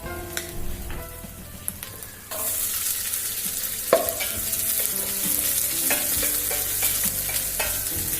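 Shallots hitting hot oil on a high flame for a pepper fish curry, a loud, steady close sizzle that bursts in suddenly after a few seconds of quieter stirring and clinking, continuing with occasional spoon scrapes.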